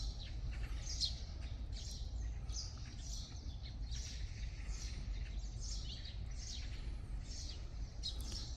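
A live bird in Seoul Children's Grand Park gives repeated short, faint calls at a steady pace over a constant low outdoor rumble.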